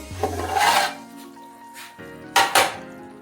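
Chicken stirred in a pan for pepper chicken, giving scraping, rasping utensil strokes against the metal with a couple of louder clattering scrapes near the end, close by and with no talk.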